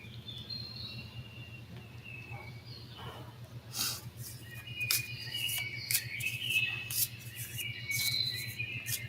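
Birds chirp and tweet outdoors in a morning setting, with scattered bright calls that thicken in the second half over a steady, pulsing insect-like drone.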